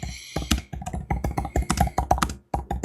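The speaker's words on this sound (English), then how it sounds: "you can just type directly into the Accordance module" Typing on a computer keyboard: quick, close, crisp key clicks in irregular bursts, with a short pause before the tapping resumes, heard alone with no voices.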